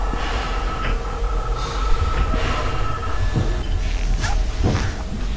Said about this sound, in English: I was so rudely interrupted by the sound of mangle coming from the walls